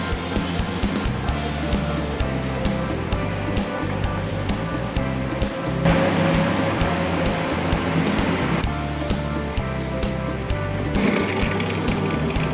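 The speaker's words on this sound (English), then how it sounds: "Now it's spinning the clothes for a little bit to remove the excess water." A Panasonic fully automatic washing machine spins a load of clothes, giving a continuous rushing, sloshing whir that swells slightly midway and holds steady throughout, without any talking.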